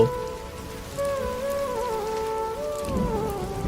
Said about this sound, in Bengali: আকাশ থেকে তখনও ঝমঝম করে বৃষ্টি পড়ছে